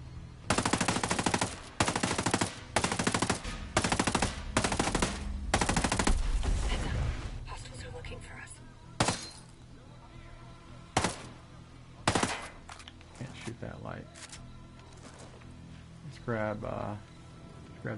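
A turret machine gun fires in Ghost Recon Breakpoint, loud rapid bursts in several separate volleys, then gives way to scattered quieter game noise and someone talking.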